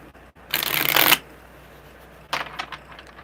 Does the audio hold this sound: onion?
no